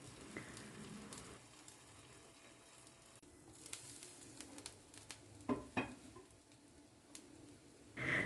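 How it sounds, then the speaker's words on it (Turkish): Soft steady sizzle of a potato and egg mixture frying in oil, faint and continuous, with a few clinks of a utensil against the pan. "şimdi diğer tarafını da aynı şekilde kızartıyorum"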